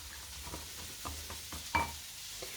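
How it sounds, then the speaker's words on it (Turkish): Walnuts and dried tomato mixture being stirred in a bowl, soft repeated scraping strokes at an even rhythm with one sharper knock, faint and close. "Güzelce karıştırıyoruz."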